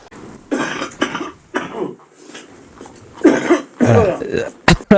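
Several harsh coughs and throat clearing, loud and close, in short bursts with brief gaps between them.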